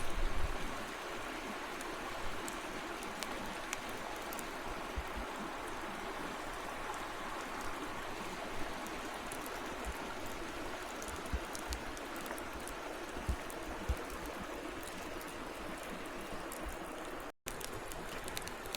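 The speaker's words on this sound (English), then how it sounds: "Nothing but water." A mountain stream flowing through a winter forest, a steady broadband rush of water that runs continuously and fairly close. No voices break in, and there is a brief dropout near the end.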